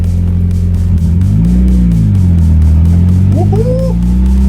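A Nissan Silvia S14 with freshly swapped suspension and wheels drives on a first test run in Texas, heard from inside as a loud, steady low engine and road drone with shifting pitch and a brief voice near the end.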